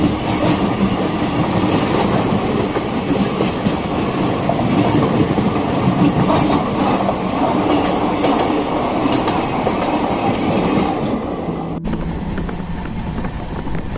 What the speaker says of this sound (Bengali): কিষানগঞ্জ স্টেশন ছাড়ার সাথে সাথেই আমাদের ট্রেনের সাথে দেখা হয়ে গেল 1042 নিউ জলপাইগুড়ি হাওড়া শতাব্দী এক্সপ্রেসের সাথে।